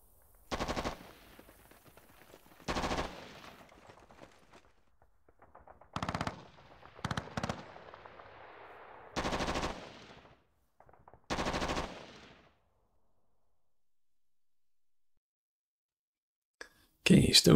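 Italian artillery firing in the strategy game Panzer Battles: North Africa 1941, a series of loud, abrupt bursts in a spaced rhythm, each lasting under a second, separated by quiet gaps and fading to silence near the end.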